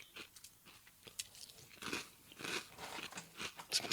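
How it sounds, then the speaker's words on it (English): Crunchy Captain Crunch cereal being eaten close to the microphone, with repeated sharp crunches and bites in an uneven chewing rhythm, fairly quiet apart from the crisp snaps. "Some Captain Crunch ASMR for y'all."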